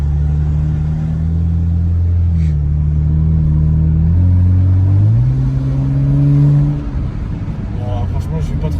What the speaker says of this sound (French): Je vais pas trop accélérer.